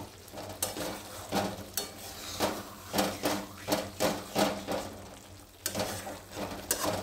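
Potatoes stir-frying in oil in a pan for a small new-potato dum, with a steady sizzle and a regular rhythm of scraping strokes close by.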